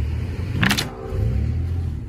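An off-road vehicle in the snow holds a low engine idle, then a brief sharp burst of throttle, and settles into a rising steady rumble afterward, close by with no talk.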